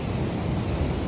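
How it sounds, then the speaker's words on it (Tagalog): Large, powerful ocean waves churn along a storm-battered coast, a loud, continuous roar of surf mixed with wind buffeting the microphone. "Lakas ng alon. Laki ng alon."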